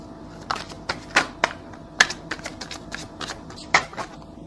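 Tarot cards being shuffled by hand, a run of crisp papery riffles and snaps coming in irregular bursts, close and fairly loud, with no talking.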